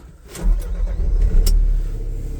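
A Linde H35T-02 forklift engine is cranked and catches, then settles into a loud, low, steady idle rumble close by, with a couple of sharp clicks near the start.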